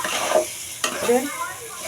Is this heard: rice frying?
yes